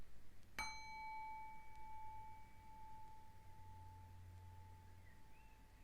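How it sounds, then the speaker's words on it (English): A single clear bell strike rings out once near the start, then its pure tone decays slowly over several seconds in a quiet room, close and alone. "I'll ring the bell."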